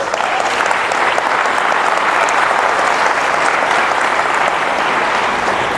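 A church congregation applauds and cheers for Jesus: loud, dense, steady clapping from a large crowd that carries on without a break for several seconds.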